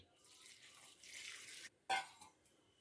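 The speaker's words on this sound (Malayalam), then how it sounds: "ഇതിലേക്ക് കുറച്ച് വെള്ളം ഒഴിക്കാം." Water poured into a pan of prawn and raw mango curry, a soft splashing gush that swells, cuts off, then returns with a brief clink, quiet and close.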